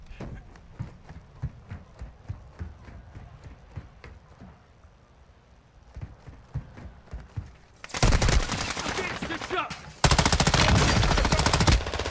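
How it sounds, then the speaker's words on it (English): Automatic gunfire in the shooter game Call of Duty DMZ: faint, rhythmic distant shots at first, then loud, dense sustained bursts close by, with a brief radio-style voice over the early part. "You are taking effective fire."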